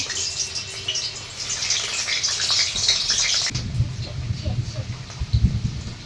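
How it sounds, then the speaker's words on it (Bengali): Potatoes fry in hot oil in a home kitchen. A loud, bright sizzle crackles for a few seconds, then drops to a lower, busier bubbling with a few soft knocks. "তেল গরম হয়ে গেছে, আলু কটা ভেজে নেব"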